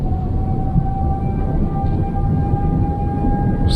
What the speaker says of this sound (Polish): Straż pożarna wyje